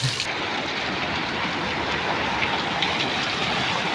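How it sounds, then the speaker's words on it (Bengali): Heavy rain pours down in a steady, dense roar with no voices. "কি বৃষ্টি!"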